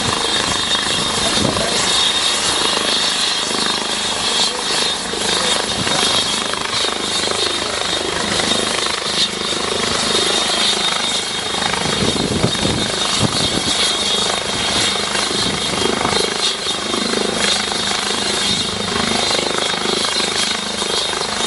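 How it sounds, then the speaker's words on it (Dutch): A trauma helicopter sits at a single-vehicle accident scene and readies for takeoff, its rotor and turbine a loud, steady, continuous roar with throbbing blade chop, heard close and alone for about twenty seconds. "De traumahelikopter staat klaar om weer op te stijgen."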